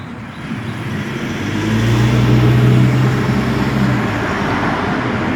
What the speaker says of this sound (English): you don't like to hear the cars